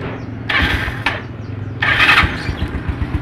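Yamaha Mio Sporty scooter engine starting, two short whirring cranking bursts from the electric starter followed by a rough, low idle that keeps running, close by.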